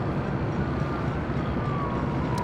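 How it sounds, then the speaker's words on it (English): Emergency vehicle sirens at LAX during an aircraft emergency landing on runway 25 left, heard as faint rising and falling wails at a distance, buried in steady broadband airport and traffic noise. "Oh yeah, hearing the sirens."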